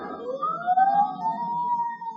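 Police sirens rising and wailing as they approach, a single continuous swelling tone that grows louder over a couple of seconds with no talk over it.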